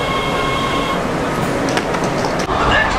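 A loud, steady rumble of a Los Angeles subway train in motion, with wheel clatter and a brief squeal, filling the whole stretch.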